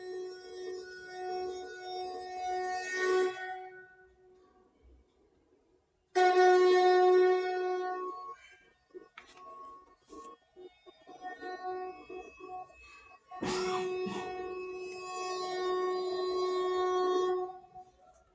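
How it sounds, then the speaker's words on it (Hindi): A conch shell is blown in long, loud, tonal blasts with echo trailing after them, with short breaks between the calls and no talk over them. "शंख की ध्वनि के साथ में प्रतिध्वनि भी आपको सुनाई दे रही"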